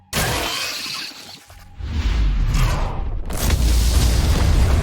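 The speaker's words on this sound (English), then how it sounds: "Looks like fireworks are going off in the ant tunnels." Rapid crackling blasts and booming bursts, like fireworks going off inside underground ant tunnels during a Solo Leveling: Arise battle, loud and dense throughout with a brief dip before the barrage swells again.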